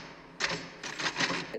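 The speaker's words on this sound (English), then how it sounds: "Hear me typing." Typewriter keys striking in quick rattling bursts, a few separated clusters of clacks heard close and clear with no talk over them, from a scene in the 1980 film The Shining.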